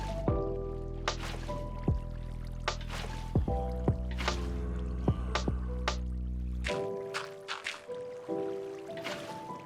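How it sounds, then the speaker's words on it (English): Minecraft water being placed from buckets and flowing across a platform, a string of short splashy drips and pours repeating over a steady game-music bed, with a burst of rushing water near the end. "Set up an infinite water source and place water buckets in each back corner of the platform"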